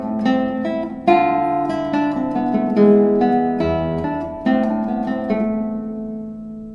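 Classical guitar played with 19th-century accentuation, plucked notes and chords ringing close and clear, with some strokes noticeably stronger than others in a lilting pattern, solo and without speech.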